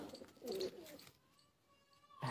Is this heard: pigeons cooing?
yes